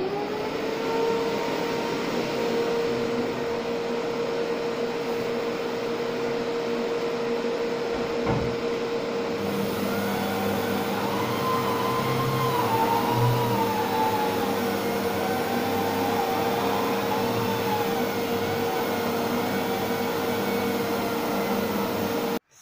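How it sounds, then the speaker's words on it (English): A wall polishing vacuum machine used in finishing work runs steadily for the whole stretch, a loud continuous motor whine with a droning tone that wavers slightly in pitch, close by and with no talking over it. "But first I have to turn on the vacuum."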